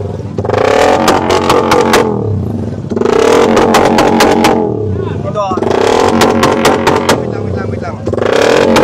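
Raider 150 fuel-injected motorcycle with a loud aftermarket exhaust pipe revving hard at a loudest-pipe contest in Caloocan, three long bursts of roaring, crackling revs separated by brief idle dips, with crowd chatter underneath.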